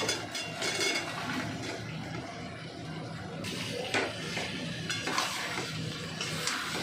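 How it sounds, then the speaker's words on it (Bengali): Chicken sizzles in a pan with vinegar, a steady dense frying hiss with occasional stirring scrapes and light clinks of a utensil against the pan throughout. "এবার ভিনেগার দিয়ে চিকেনটা দিয়ে দিলাম।"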